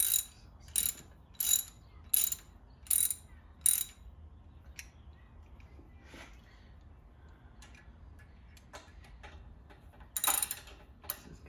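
A wrench ratchets while exhaust headers go onto a 1971 Monte Carlo SS, six crisp ratcheting bursts in a steady rhythm, then quieter clicks and one more burst near the end, close and alone.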